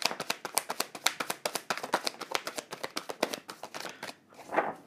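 Tarot cards are shuffled by hand in a quick, rhythmic run of crisp flutters and taps, close and clear, ending with a softer rustle as cards are drawn.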